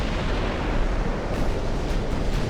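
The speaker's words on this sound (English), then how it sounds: "But here comes another rain of 4-inch or 20-inch shells." Incoming naval shells burst around a warship in the Ultimate Admiral: Dreadnoughts game, a dense continuous roar of explosions with overlapping booms at steady loudness.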